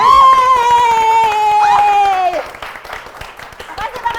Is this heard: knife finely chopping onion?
no